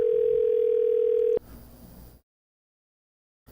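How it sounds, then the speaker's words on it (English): A phone call tone holds steady and clear for about a second and a half before cutting off, followed by a brief muffled line noise and then silence ahead of a voicemail prompt. "Would you like me to leave a voicemail for Colin, or would you like me to save this for later"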